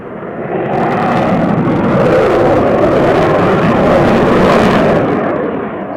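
Roaring jet noise from a Dassault Rafale B two-seat fighter flying at the Cosford Airshow, a loud sustained broadband rush that swells in and holds steady for several seconds, close and powerful with no talk.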